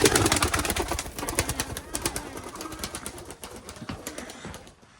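Pigeons let out of a cleaned coop: rapid, fluttering wingbeats in bursts with scattered soft coos, close at first and gradually fading, with a faint voice in the background.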